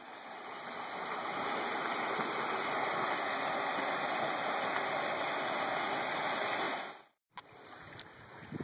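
Hemmed In Hollow Waterfall on the Buffalo River, a steady broad rush of falling water close by for several seconds, then an abrupt break and quieter outdoor noise with a faint knock.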